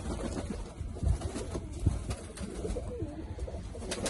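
Pigeons coo in low, soft, repeated calls while being fed, heard close but quietly over a faint background rustle, with no talk.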